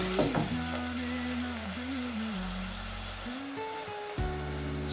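Onions frying in a pan for mutton sukka, a steady close sizzle with occasional stirring scrapes that continues without a break.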